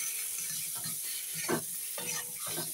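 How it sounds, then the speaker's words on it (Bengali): Potatoes and taro fry with cumin, dried chili, salt and turmeric in a pan, giving a soft sizzle with scraping stir strokes at irregular intervals, close and fairly quiet. "এবার আলু আর কচুটা দিয়ে আরেকটু কষিয়ে নেব।"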